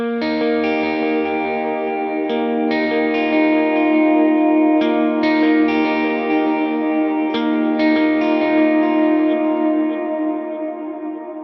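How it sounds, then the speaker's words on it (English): Electric guitar plays the Away in a Manger turnaround as plucked chords and single notes drenched in reverb and delay, each attack trailing into long echoing sustain before fading out at the end. "And with all the effects, just with the extra reverb and delay compared to that, it'll be like this."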